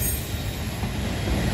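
A steady, loud rumble of a passing CPKC freight train with CP and Union Pacific locomotives, with rolling rail noise and a faint high squeal running throughout, no voices. Galt Subdivision, London, Ontario.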